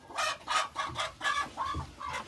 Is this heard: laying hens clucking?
yes